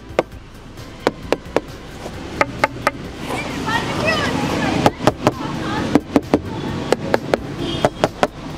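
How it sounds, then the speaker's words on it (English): Sharp hollow taps land on the plastic body panels of an Ola S1X electric scooter at an uneven pace, some in quick pairs, while a voice talks faintly underneath. "So now I'll tap the panels of this electric scooter."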